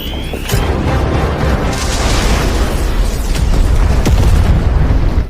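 Grenades explode in a film action scene: several loud, close booms and sharp bursts follow one another over a few seconds, leaving a dense rumbling roar between the blasts.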